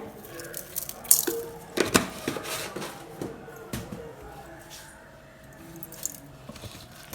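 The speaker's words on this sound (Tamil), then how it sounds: "பருப்பு மத்தில் நல்லா கடைஞ்சிக்கலாம் இது மாதிரி நல்லா கடைஞ்சிடுங்க" A wooden dal masher churns cooked kumutti greens in a pot, giving irregular close knocks, rattles and wet squelches that grow sparser and softer toward the end.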